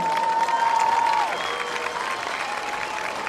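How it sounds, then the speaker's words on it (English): Applause rises from the stands at a high school football game for the Montague High School Marching Band, a broad wash of clapping and crowd noise with a sustained tone over it early on. "Another round of applause for Montague High School Marching Band"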